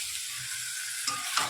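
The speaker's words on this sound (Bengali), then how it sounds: "তো দেখো কষানো প্রায় হয়ে গেছে, অনেকক্ষণ থেকে কষাচ্ছি" Chicken pieces with masala sautéing in a pan on a home stove, a steady soft sizzle throughout with a couple of brief stirring scrapes near the end, close and fairly quiet.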